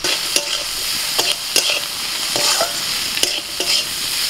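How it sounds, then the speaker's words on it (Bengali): Chopped vegetables with salt, turmeric, coriander, cumin and red chilli powder sizzle in a hot pan while a spatula stirs them, the frying hiss punctuated by repeated scraping clicks. "মশলা দেওয়ার পর সবজিগুলো আরেকটু নাড়াচাড়া করে নিয়ে"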